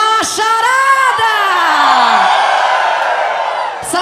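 Men in the crowd at a live 2008 concert in Belo Horizonte let out a loud sustained roar of shouts and whoops that swells together, then fades.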